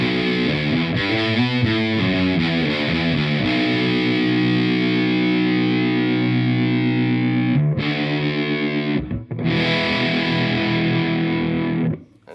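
A Mooer Pitchbox pitch shifter pedal in a guitar amp's effects loop turns a distorted electric guitar into a thick, wobbling pitch-shifted sound. Notes are picked at first, then a chord is held loud and steady, with two brief cutoffs near the end.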